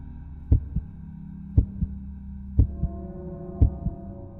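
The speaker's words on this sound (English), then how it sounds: "my heart pounding in my chest" A heartbeat sound effect in a horror story narration thumps in four evenly spaced double beats, each a deep close lub-dub pulse over a low droning hum, with no voice during the beats.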